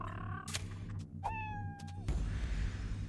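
A cat meows in Fallout Shelter, a single clear drawn-out mew rising from a short chirp, set against a steady low game hum and a few soft clicks.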